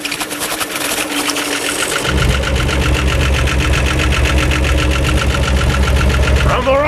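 An engine with a turbocharger and Flowmaster exhaust runs at a steady idle with a rapid, even ticking pulse, close and loud, after a brief quieter stretch at the start.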